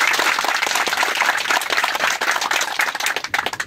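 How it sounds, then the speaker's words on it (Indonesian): A group of farmers at an outdoor community garden gathering claps loudly and continuously, a dense, close, crackling burst of applause with no voices over it. "Kita tepuk tangan untuk Ondo."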